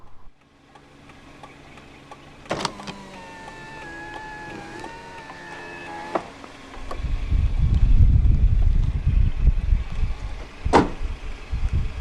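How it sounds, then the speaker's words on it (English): A 2015 Toyota Avanza 1.5 G's driver's side power window motor whirs steadily for several seconds between two sharp clicks as it rolls down, followed by louder rumbling wind and road noise. "roll down the driver's side window"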